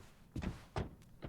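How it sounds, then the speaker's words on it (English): Car doors slam in the Yakuza 4 video game, three dull thumps spaced about a third of a second apart over a faint background hum, with no talk. "That's a lot of car doors."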